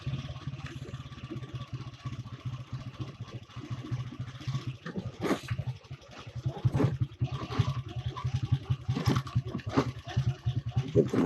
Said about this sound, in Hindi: ब्रेकर लगातार ब्रेकर्स के ऊपर ही चल रही है बाइक